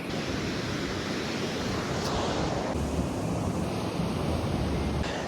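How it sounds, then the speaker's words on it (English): Ocean waves crash loudly and continuously onto the rocks at Tamarama Beach, a steady roaring surf with no voices. "Probably can't hear me because the waves are so loud"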